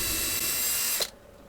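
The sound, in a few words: drill boring holes in stacked paddle pop sticks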